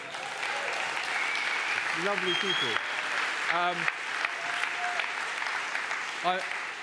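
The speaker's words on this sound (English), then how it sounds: "Can we have a round of applause for these" Steady audience applause from a crowd at a stage event, sustained throughout, with a voice speaking over it at a few points.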